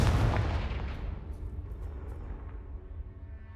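A fire spell blasts with a loud, close boom in a fantasy wizard video game, then the rumble decays over several seconds into a quiet tail.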